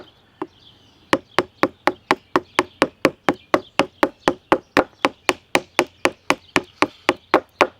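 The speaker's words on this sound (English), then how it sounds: "We're literally carving chips off because this is a thick piece of wood." CV Life bushcraft knife chip carving a thick piece of wood, a rapid, steady series of sharp woody chops and knocks, around thirty evenly spaced strikes, close and crisp with no talking.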